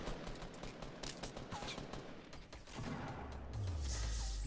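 Weapon fire in Fortnite Battle Royale, with quick bursts of shots rattling in a fast sequence. It is fairly faint and slightly distant, followed by a low rising mechanical whoosh.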